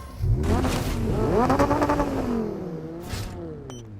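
A motorbike engine in a battle royale video game, revving up and down in rising and falling sweeps over a steady drone, loud and close, with a brief burst of noise near the end.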